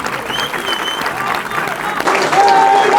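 Crowd applause at a gathering honouring Gazans and Palestinians, a dense wash of clapping under raised voices and cheering that grows louder in the last second.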